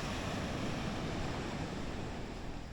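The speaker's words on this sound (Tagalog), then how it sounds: "Tapos ito yung dagat." Sea waves washing onto a beach front at Dingalan on a drizzly, rainy day, a dense steady roar of surf with some wind rush, fairly loud and without voices.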